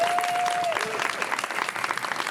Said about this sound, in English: Let's have a round of applause for Alyssa